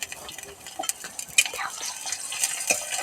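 Garlic, ginger, chilli and cumin pastes frying in a pan, with a soft sizzle, scraping stirs and a few clinks of a utensil against the metal, fairly close and steady throughout.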